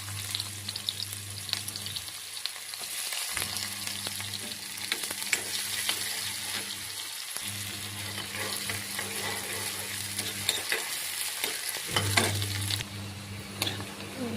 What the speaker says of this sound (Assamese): ইয়াত তেল দিছোঁ, তেল গৰম হৈছে। ইয়াত পিঁয়াজ দিলোঁ